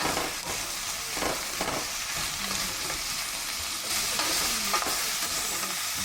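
Ingredients for a butternut and perch dish gently sautéing in a pan, a steady close sizzle and hiss with occasional stirring scrapes, no talk.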